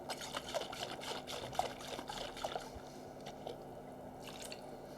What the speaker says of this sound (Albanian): Tashi e shplaj dhe kavanozin e salcës